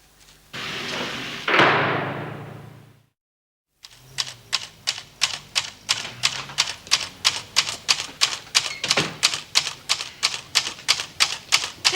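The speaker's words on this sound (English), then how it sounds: "That typewriter cost a lot of money, Doreen. If you're not going to use it properly" Typewriter being typed on in an office setting, a brief whoosh and thump, then after a pause a steady run of sharp, evenly spaced key strikes, close and clear with no talk.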